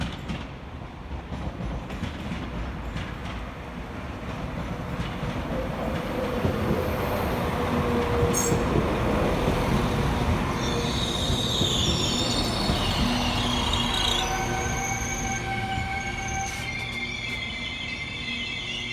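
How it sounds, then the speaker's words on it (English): A Transport for Wales class 197 train, unit 197 103, arrives at Manchester Oxford Road station with a steady rumble of wheels and rising squeals from the rails, growing louder as it pulls in. "Arriving next into the station 4 minutes late is 197 103, working the 1151 Transport for Wales service from Llandudno North through to Manchester Airport"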